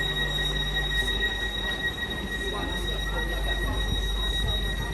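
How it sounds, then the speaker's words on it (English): A train pulling away from a suburban rail station, its steady rumble and rail noise running continuously with a faint high whine above, while a voice talks lightly in the background. "Well, I'll watch this train depart, then we'll head off."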